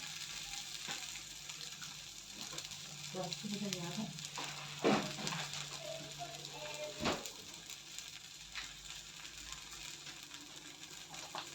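A mixed-flour pancake (dhirde) roasting in a little oil on a pan gives a soft, steady sizzle, with a few utensil clinks and scrapes and light background sounds.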